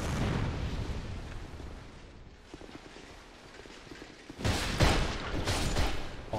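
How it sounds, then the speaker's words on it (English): A burst of explosive booms in Dark Souls 2, a rumbling blast at first that fades. A second loud, crackling explosion follows near the end. "Exploded."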